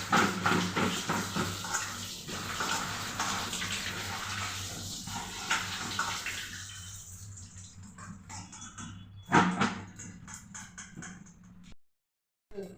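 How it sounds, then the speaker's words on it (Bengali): Pointed gourds (potol) being washed by hand in water, steady splashing and sloshing for most of the stretch, thinning out near the end with a brief louder splash before a short silence. "পটলগুলো আমার সব ভালো করে ধোয়া হয়ে গেছে।"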